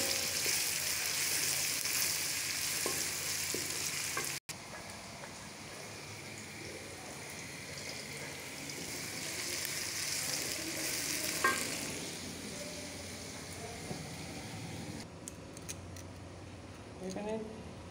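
Onions sizzle and crackle steadily in a hot pan, a dense frying hiss with occasional stirring scrapes, while a person talks over the cooking.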